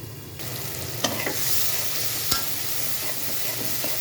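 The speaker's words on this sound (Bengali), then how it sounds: "মশলাটাকে একটু কষিয়ে নিতে হবে" Ground spices frying in oil and stirred in a pan for a prawn curry with ash gourd: a loud, steady close sizzle with a few scraping strokes of stirring, no voices.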